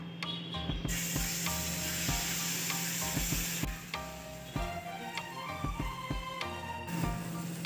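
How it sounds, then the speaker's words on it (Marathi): Constant sizzling and frying hiss from a hot griddle, with scraping and clicking of a utensil spreading chilli pancake batter. "आपण आता तव्यावर टाकून घेऊ पोळा"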